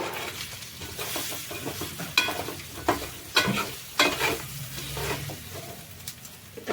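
Fish fry sizzling in a pan, with close crackling and frequent sharp scraping and tapping of a utensil against the pan in an uneven rhythm.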